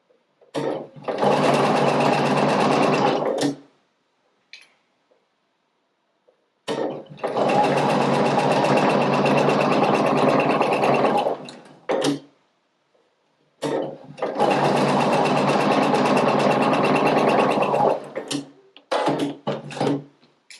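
A domestic sewing machine stitches curved seams in three long, steady runs of close mechanical whirring, each separated by a few seconds of silence and ending with brief short bursts.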